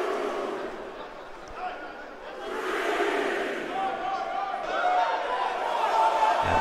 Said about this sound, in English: Members of this crowd trying to cheer Louis Richardson back to his feet.